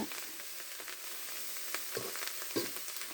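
Crickets roast in a hot pan, sizzling and crackling steadily with scattered louder pops and stirring scrapes, close and moderately loud.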